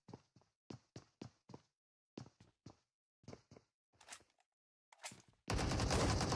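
An AK rifle fires in PUBG Mobile in short, sharp bursts of several shots with gaps between them, ending in a loud, sustained wash of noise.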